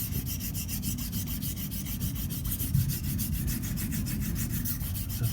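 Heavy-ground smiling wedge razor honed on a sharpening stone, its spine wrapped in two layers of tape, giving a close, steady rhythmic rubbing and scraping of steel across the stone in even, rapid strokes without talk.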